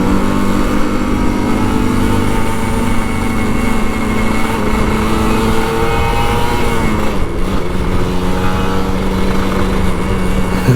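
An old Kawasaki Ninja RR 150 motorcycle engine drones loudly and steadily up close, its pitch shifting and rising briefly as the throttle is worked, with no talk over it.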